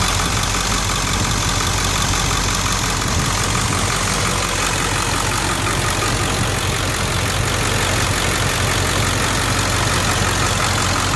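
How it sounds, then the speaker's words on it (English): A Ford 7.3 Powerstroke diesel engine idles steadily, a dense, constant clattering rumble heard up close with no pauses. "Probably can't hear me anymore because of the engine noise."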